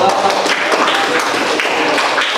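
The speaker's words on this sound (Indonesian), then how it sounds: "Ya, tepuk tangan nomor 1." Classroom applause for the first discussion group during a lesson on zakat fitrah and zakat mal: a steady, dense patter of many hands clapping together at close range, sustained evenly through the whole moment without pauses.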